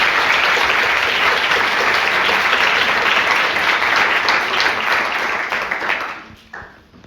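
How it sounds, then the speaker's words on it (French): A room of spectators at a mock-trial evening breaks into sustained, dense applause that holds steady for several seconds, then thins and fades out to a few last claps. "Je vous demande d'applaudir Manon Perret et Clément Baudry."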